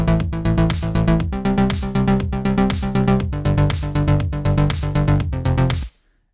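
Synth arpeggio from the Alchemy arpeggiator in Logic Pro X set to up mode, a fast, even stream of punchy plucked notes in a steady offbeat pulse, loud and alone, cutting off abruptly at the end.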